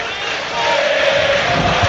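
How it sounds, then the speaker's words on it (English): Football crowd at an FA Cup match between Bournemouth and Swansea City chanting a player's name in unison, a broad, loud, sustained roar of massed voices filling the stadium that swells slightly midway. "The crowd sing Andoni Irola's name."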